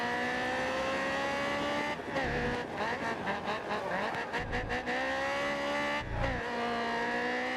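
Race cars racing in GRID Autosport, a steady engine whine with rising and falling revs, gear-shift dips and a brief squeal as cars jostle nearby, moderately loud without talk.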